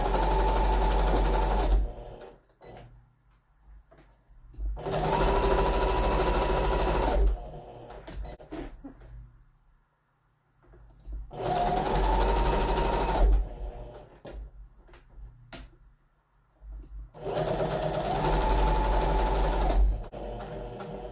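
A sewing machine stitches over braided cord on a one-panel pillow, with four long, loud, rapid whirring runs of stitching separated by quiet pauses and small handling clicks.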